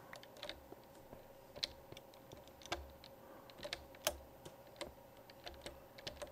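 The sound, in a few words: typing on computer keyboard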